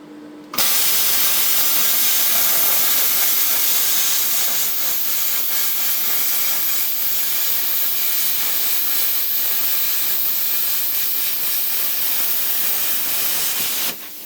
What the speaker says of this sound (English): that literally walks through 10mm, and it's a lovely clean square cut